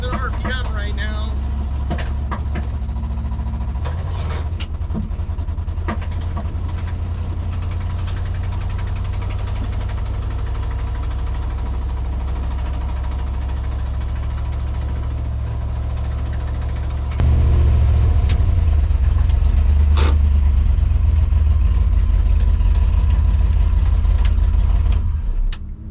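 A 1979 Ford Mustang engine runs close and rough, struggling to climb past about 2,000 RPM, with a steady low drone that jumps louder near the end amid intermittent clicks and knocks.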